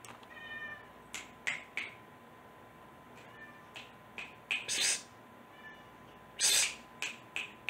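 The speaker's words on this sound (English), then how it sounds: "My cat comes he'll come any other time, but he don't want to come now." A domestic cat meows several times, short, fairly close calls spread through a quiet room, with soft hisses and snaps between them and a person speaking faintly at times.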